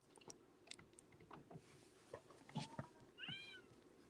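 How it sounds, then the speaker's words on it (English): A house cat meows faintly from somewhere nearby, one short rising cry near the end, amid quiet room noise, soft clicks and chewing-like sounds. "I'm gonna have to let the stupid ass cat back in the house."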